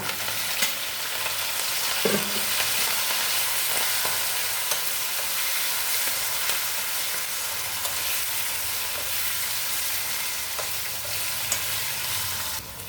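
Green chillies, curry leaves and coriander frying in a tempering of hot oil with a pinch of asafoetida, a dense, continuous close sizzle with occasional faint stirring clinks, no talk.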